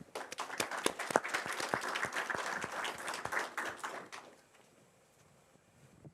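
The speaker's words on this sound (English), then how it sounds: "Can I please get a round of applause for Kushal?" Audience applause for a presenter at a TensorFlow tech talk, a sparse, quiet round of individual claps from a small room that stops after about four seconds, leaving near silence.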